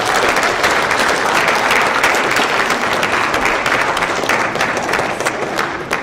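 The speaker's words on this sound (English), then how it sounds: "All right, let's clap it up for our panelists." An audience gives panelists loud, dense, sustained applause, many hands clapping steadily throughout with no break.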